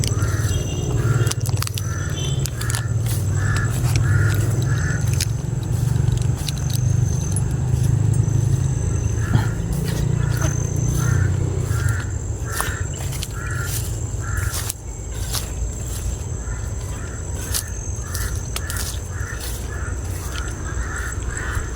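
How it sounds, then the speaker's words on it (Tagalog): Crows caw repeatedly in short bursts of harsh calls, fairly close, over a steady low rumble of traffic and background noise. "Grabe yung uwak"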